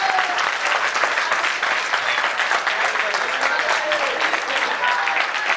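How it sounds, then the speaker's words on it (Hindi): Dense, steady applause from a live audience at a stand-up comedy show, loud and continuous throughout with no pause or break. "तालियां बजवाना कितना आसान काम है"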